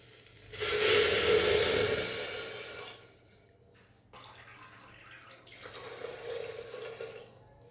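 Water pours into a pressure cooker holding lentils for restaurant-style dal fry, a loud rushing stream for about two seconds that tapers off, then a quieter second pour follows after a pause.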